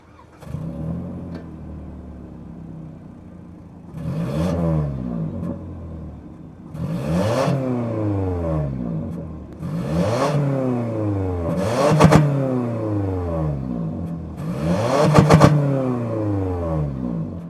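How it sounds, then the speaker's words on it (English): A 2025 Toyota Corolla FX's 2-liter naturally aspirated four-cylinder engine revs repeatedly, rising to a raspy roar about five times and falling back to a steady idle between bursts. "let's fire up this 2-liter naturally aspirated 4-cylinder and hear how she sounds"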